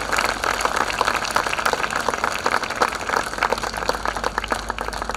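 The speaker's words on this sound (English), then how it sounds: "please give a big round of applause to these three wonderful ladies" Audience clapping at a school day celebration, a dense, even burst of applause from a sizeable crowd held steady throughout, moderately loud and slightly distant, with no speech over it.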